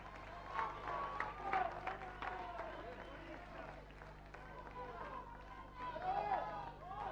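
Live audience at a 2008 concert applauding the bass player, a dense wash of clapping and cheers under someone talking through a microphone.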